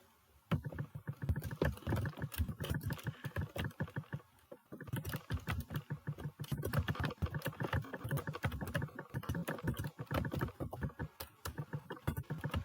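HTML text is typed on a computer keyboard in quick, uneven bursts of close clicking keystrokes, pausing briefly before resuming.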